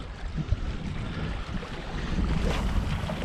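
Wind blows hard on a Norwegian seashore, a steady rushing gust buffeting the microphone with low rumbles, with no talk.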